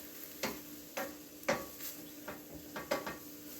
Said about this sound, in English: I'm going to just stir this whole thing. And I'm going to let my veggies sweat in here.